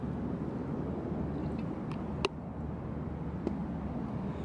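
Road traffic near a train station, heard as a steady, broad low rumble with a couple of faint brief knocks, distant and continuous.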